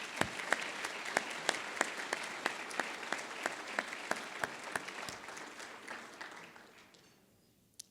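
An evening fundraising event audience applauds its sponsors, a dense run of hand claps with sharp individual claps standing out before fading away toward the end.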